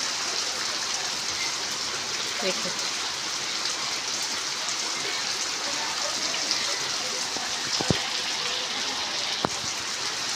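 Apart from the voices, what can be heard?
heavy rain falling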